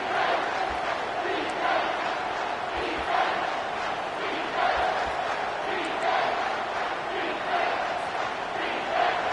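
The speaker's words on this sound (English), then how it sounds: "This crowd rising up, sensing that its defense needs some help." A stadium crowd in a Madden football video game roars steadily in the background, a dense, sustained wash of cheering with rising swells.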